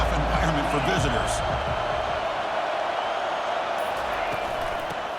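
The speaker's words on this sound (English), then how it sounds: "Listen to the crowd energy here in the early going." A college football stadium crowd roars steadily at Ohio State versus Texas A&M, a dense wash of cheering that holds throughout beneath a commentator's voice.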